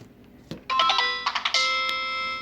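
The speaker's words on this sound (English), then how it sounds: "I really like that boot up sound" A TracFone flip phone from 2008 powering on and playing its startup tune, a bright, ringing chime sequence of several sustained bell-like tones. It follows a short click and is clear and close.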